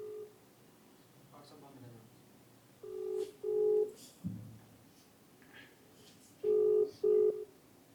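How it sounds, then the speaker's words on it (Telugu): Phone keypad tones beep as a call is dialed to ICICI Bank, several short tone bursts coming in two clusters, close and clear, with a faint voice and room sounds between them. "ఒక్కసారి ఐసిఐసిఐ వాళ్ళకి ఫోన్ చేద్దాము"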